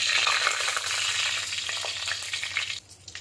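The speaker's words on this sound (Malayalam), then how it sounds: "ഇതിലേക്ക് ഒരു തക്കാളിക്ക് ചേർത്ത് വഴറ്റാം." Tomato frying in a pan for a mackerel chilli curry, a bright continuous sizzle with scattered stirring clicks, loud and close, easing off near the end; no one talks.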